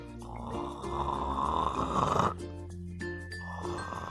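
A loud, rasping snore rumbles through a long inhale and then stops abruptly, followed by quieter breathing and a faint tinkling in the background.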